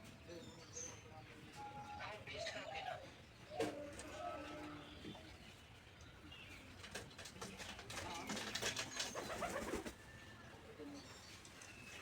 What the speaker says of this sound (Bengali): এখানে কিন্তু দেখছেন কবুতর একটি বসে আছে, কালো কবুতর